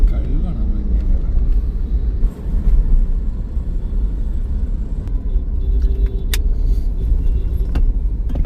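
Busy road traffic with vehicles coming from every direction forms a loud, steady engine rumble heard from inside a Suzuki Jimny, with brief clicks and clatters and someone talking over it.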